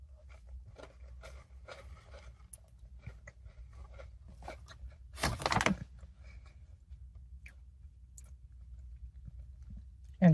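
A President's Choice Decadent chocolate chip cookie is chewed up close, with scattered crisp crunching clicks and one louder burst of crunching midway, and no talk over it.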